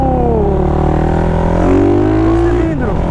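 A remapped 470cc motorcycle engine revs in a light, steady pull, its rising and falling harmonic whine loud and close throughout with no pause.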